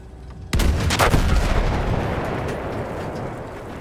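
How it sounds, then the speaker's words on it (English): Tank cannon and artillery fire in the Battlefield 1 video game, a sudden loud blast followed by a booming second report and a long rumbling decay, with no talk. "I'm in a tank, Townsend."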